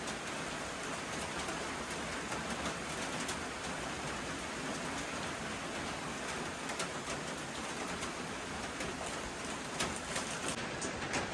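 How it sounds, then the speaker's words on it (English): Steady rain falls on a hiker on the Appalachian Trail near Nantahala, a continuous close-up patter and hiss with no break over the whole stretch. "It's still raining pretty good, but we're gonna go ahead and brave the storm"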